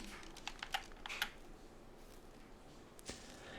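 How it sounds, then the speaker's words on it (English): A handheld game controller's buttons click while someone plays ARK: Survival Ascended, picked up faintly by the microphone as a quick cluster of light taps followed by one more click after a pause. "That noise right there, that's my controller."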